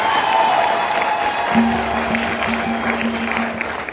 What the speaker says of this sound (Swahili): Makofi mengi sana bwana.